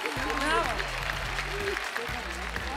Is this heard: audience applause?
yes